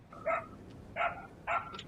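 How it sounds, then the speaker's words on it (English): A dog barks three times in an even rhythm, moderately loud over a low background hum, with no one talking. "Shut up, dog."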